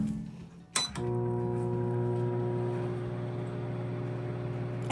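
Microwave oven running at full power while roasting a tomato: a brief clunk as it starts, then a steady low electrical hum with a faint fan whir, constant and close.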